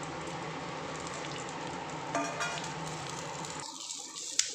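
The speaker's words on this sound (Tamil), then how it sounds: "நம்ம க்ளீன் பண்ணி கருவேப்பிலையை இதை சேர்த்துக்கலாம். கருக விடாமல் லைட்டாக வதக்கிக்கலாம்." Curry leaves sauté in hot oil for a curry-leaf kara kuzhambu, a faint continuous frying crackle close by with a few sharper pops, quieting toward the end.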